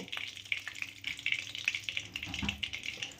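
Cauliflower frying in hot oil in a pan, a continuous crackling sizzle with sharp pops and stirring scrapes, fairly faint and close, with no talking.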